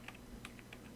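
Soft, close keystrokes on a computer keyboard, about half a dozen quick taps spread across a second, quiet and without talk.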